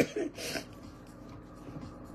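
Coughing and throat clearing from a woman with bronchitis, a couple of harsh bursts near the start, then fading into a quieter, muffled background.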